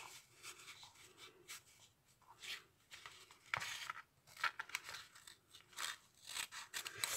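Scissors snip through material in a run of crisp, close cuts with short pauses between them. No one speaks.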